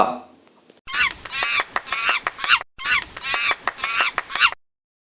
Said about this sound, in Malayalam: കോഴി. കോഴിക്ക് സംസ്കൃതത്തിൽ പറയുന്നു കുക്കുടഃ.